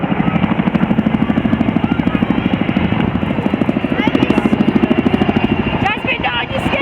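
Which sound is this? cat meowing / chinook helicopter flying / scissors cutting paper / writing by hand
chinook helicopter flying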